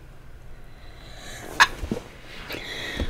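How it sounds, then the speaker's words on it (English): A single short sneeze rings out in the middle, followed by a couple of faint sniffs or small noises, heard against a quiet indoor background with no talk. "Well, don't mind me sneezing."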